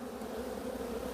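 Honeybees at an opened hive frame full of nectar make a steady, dense, close drone of many wings, continuous without talk.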